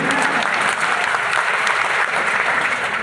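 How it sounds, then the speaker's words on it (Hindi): Audience at a Hindi comedy poetry gathering breaks into steady, loud applause, a thick continuous wash of many hands clapping at once with no pauses. "ताली बजाओ वरना उंगली यहीं रहेगी।"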